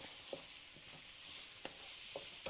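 Mixture stirred in a pan over high heat before okra goes in, a steady soft frying hiss with a few light scraping strokes of the spoon, close and alone with no talk.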